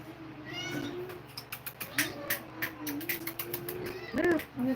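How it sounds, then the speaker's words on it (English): A domestic cat meows repeatedly at close range indoors near a dining table, several short rising and falling calls spread across the moment, with faint room noise and no speech. "The cat's in here."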